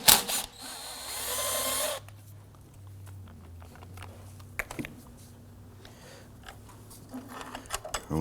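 An 8mm bolt on the battery bracket of a 2008-2011 Ford Focus is loosened with a brief burst of power-tool whir, then come quiet clicks, taps and rattles as the bolt is removed.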